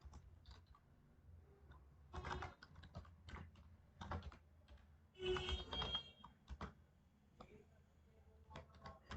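Quiet computer keyboard typing in several short bursts of clustered key clicks separated by pauses, close but faint against a low background hum.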